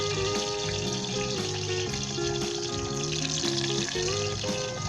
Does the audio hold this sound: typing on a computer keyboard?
no